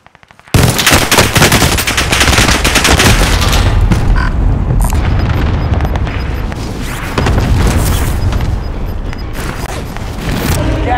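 Dense, loud automatic gunfire with booming impacts in Call of Duty Warzone Pacific on Rebirth Island, rapid bursts continuing almost without pause for about ten seconds.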